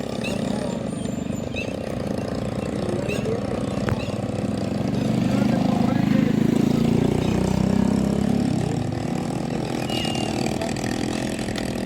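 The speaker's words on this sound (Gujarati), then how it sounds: "નવું ટ્રેક્ટર આવી ગયું છે બજારમાં," A new tractor's steady engine drones and rumbles throughout, swelling slightly louder in the middle, with faint voices and clatter in the background.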